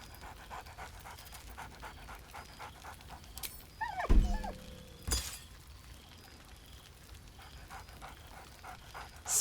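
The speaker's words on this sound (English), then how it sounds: "Scratch barks merrily in something like agreement." A dog in Baldur's Gate 3 pants rhythmically with soft whimpers, and two sharper yelps or barks break through midway over a quiet game backdrop.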